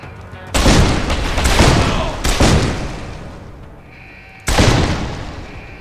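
Three heavy booming blasts ring out one after another, each with a long rumbling decay, like loud explosions in the game Deus Ex: Human Revolution Director's Cut.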